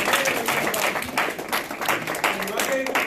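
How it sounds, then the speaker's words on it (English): A seminar audience applauds Mr. David in bursts of clapping that rise and fall unevenly, with a voice speaking intermittently over the applause. "David a round of applause?"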